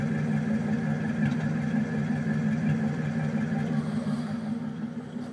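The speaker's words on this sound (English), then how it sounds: "Let's take a listen to the exhaust so you can hear it." A 1941 Cadillac convertible with a black porcelain exhaust tip idles steadily, a low, even engine burble that runs unbroken for several seconds at moderate volume, with no talk over it.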